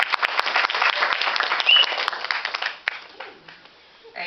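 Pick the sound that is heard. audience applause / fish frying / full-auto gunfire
audience applause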